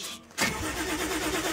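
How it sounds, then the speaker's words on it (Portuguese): A Nissan 350Z engine cranks briefly, catches and settles into a steady idle, heard close and with no talking. "Ó, liga o carro."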